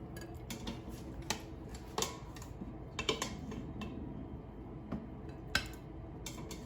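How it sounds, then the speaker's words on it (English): Cooked beets lifted from an Instant Pot with a slotted spoon into a bowl, a series of scattered metallic clinks and soft knocks over a low background hum. "So we just need to carefully transfer them to a bowl. I'm just going to use the slotted spoon."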